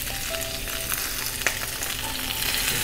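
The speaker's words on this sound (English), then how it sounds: "Our cauliflower is getting fried." Cauliflower and onion fry in a pan with a steady, close crackling sizzle, punctuated by a few sharper pops and a brief utensil clink.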